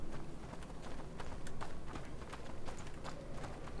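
Horse hooves clip-clop at a brisk, steady pace in the video game A Plague Tale: Innocence, with repeated close footfalls over a dense, noisy background.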